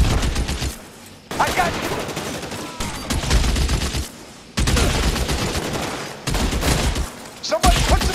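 Bursts of gunfire from an L.A. Noire shootout, loud volleys in several separate stretches broken by short silences, with someone shouting between and over the shots.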